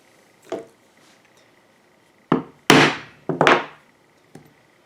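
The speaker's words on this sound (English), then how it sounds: "I'm just going to punch my holes with a diamond hole pricking chisel, or pricking iron they're sometimes called" A diamond pricking chisel, also called a pricking iron, punching stitching holes in leather for hand stitching, five sharp mallet strikes alone in a quiet room, the middle ones loud and close together, the first and last softer.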